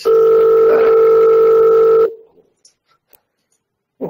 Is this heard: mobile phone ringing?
yes